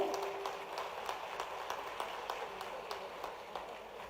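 Audience applause at a political welcome event for Chief Minister Shivraj Singh Chouhan in Sheopur: faint, distant, fairly steady clapping, with individual claps standing out over a low background murmur.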